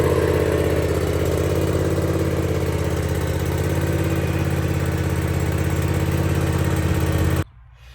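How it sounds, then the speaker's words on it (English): The engine of a John Deere Z540M riding lawn mower drones steadily at a loud, constant idle for about seven seconds, then cuts off abruptly into quiet. "we want to start our mower up and let it run for a minute"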